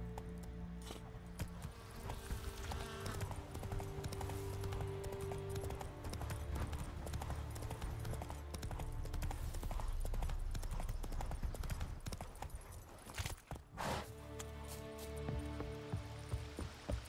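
Hooves of Roach, the horse in The Witcher 3, clip-clop steadily throughout at a walking pace, with jingling tack and some faint background ambience.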